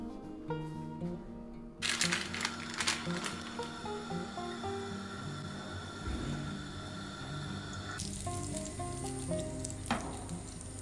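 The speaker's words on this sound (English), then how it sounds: "I'm going to start by frying my Berliners" Hot oil sizzles and crackles continuously as Berliner jelly doughnuts fry, a steady hiss with soft bubbling, under quiet background music.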